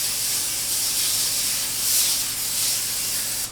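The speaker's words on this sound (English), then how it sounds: "get my pan sprayed, and then I am going to spray some directly on the vegetables as well" Cooking oil spray hisses from a can into a pan in a steady, loud, close burst that lasts several seconds, with slight swells in pressure and no talking.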